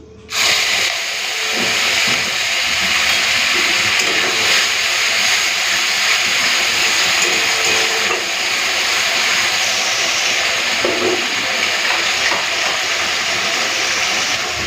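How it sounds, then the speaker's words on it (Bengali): Ground spice paste sizzles steadily in hot oil for a yam and shrimp curry, a loud, dense, continuous frying hiss that holds unbroken throughout with no talking. "তো এক মিনিটের জন্য মশলাটা একটুখানি ভেজে নিই"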